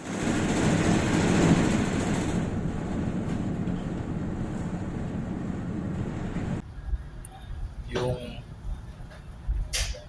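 Ship engine running during RPM testing, heard as a loud, steady, deep rumble from inside the vessel. The sound then shifts to a quieter mechanical hum with a few faint knocks, while someone talks.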